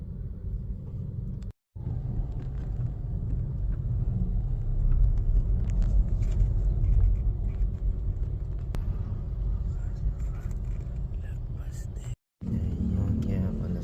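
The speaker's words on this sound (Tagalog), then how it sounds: "Ayun, kaya pala sobrang traffic mga idol sa ginagawang kalsada" Heavy, steady rumble of road traffic crawling along a road under construction near Tagaytay and Laurel in Batangas, with engines droning close by and two brief cut-outs; someone talks over it.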